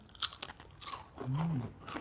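Crisp tempeh chips crunched and chewed close up: several brittle bites and crackles in quick succession, followed by a short hummed murmur over continued chewing.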